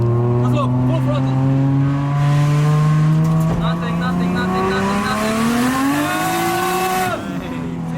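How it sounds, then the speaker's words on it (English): Toyota JZX90 drift car with turbo lag at low RPM: the engine drones steadily, then climbs in pitch as it revs and falls off sharply near the end, close and loud with no voices. "So the biggest problem with our car was for sure the turbo lag."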